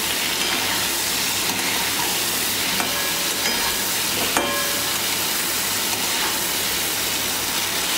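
Pointed gourd frying in masala in a pan, a steady dense sizzle with occasional stirring scrapes running throughout, close and fairly loud with no talking.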